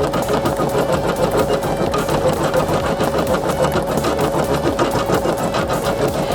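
A sewing machine runs continuously at a steady, even rhythm while couching chenille yarn, its loud mechanical whir and rapid needle chatter filling the whole stretch without talk.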